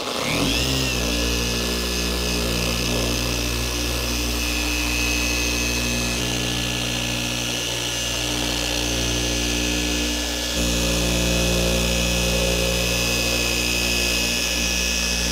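A car polisher with coarse compound and a coarse foam pad works on a turbo Subaru's paint. It gives a loud, continuous motor drone with a steady pitch, close by and unbroken, with only slight swells in intensity.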